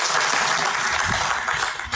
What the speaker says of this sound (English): give him a big round of applause for the incredible job he's done here this weekend